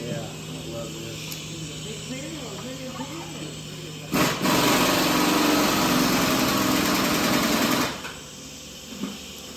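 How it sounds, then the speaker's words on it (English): TIG welding arc buzzing in a workshop, a loud steady harsh hiss that starts abruptly after a voice and runs for about four seconds before cutting off. "this is when I thought that I could TIG weld"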